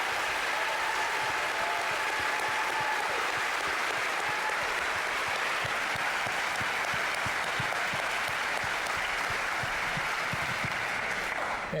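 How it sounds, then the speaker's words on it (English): A symphony audience applauds composer Joel Thompson, sustained, even clapping from a large crowd that fills the hall for about twelve seconds without a break. "Let's give him a little round of applause"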